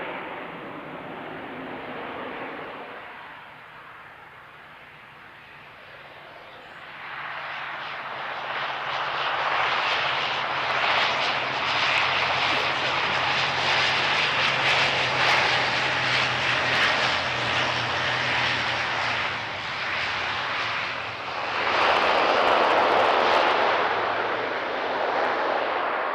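A Loganair airliner touches down at Manchester Airport, its engines rising into a loud, sustained roar that holds for many seconds and swells again near the end.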